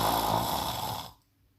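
A human voice imitates a dog's loud snoring in a story, giving one long, rough, nasal snore that holds steady and then cuts off into near silence.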